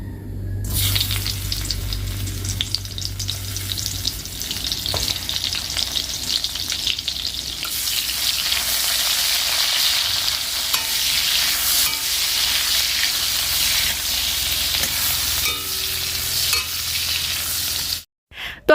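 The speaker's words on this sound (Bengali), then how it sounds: "আগে শুটকি মাছগুলো ভালো করে ভেজে নিলাম" Dried fish fry in a pan with a steady, loud sizzle and occasional stirring scrapes for nearly twenty seconds, ending in a brief cut, with no talk.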